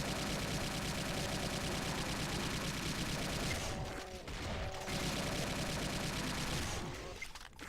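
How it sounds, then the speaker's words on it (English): A plasma rifle in the House Of Thorn game fires rapid continuous bolts at barons in a graveyard room, a dense steady stream with two short pauses. "with the ample amount of room that we have and the plasma rifle, they are easily vanquished"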